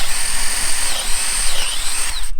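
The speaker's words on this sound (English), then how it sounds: "What I want to do first is drill me a couple holes in here." A power drill whines steadily at close range as it bores holes into a decking board, a loud continuous burst with a slight pitch dip partway through.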